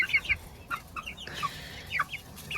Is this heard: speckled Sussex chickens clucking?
yes